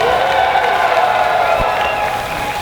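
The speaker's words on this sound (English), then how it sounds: "I want to hear the full round of applause," A crowd at a live Quake anniversary event cheers and applauds for John Romero, a loud sustained roar of voices and clapping that fills the room and tapers slightly at the end.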